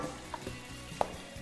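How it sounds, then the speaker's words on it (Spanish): Onion sizzles softly while being stirred and fried in a pan, a quiet steady crackle with a few light scrapes and taps of the utensil against the pan. "le damos unos meneos aquí a la cebolla"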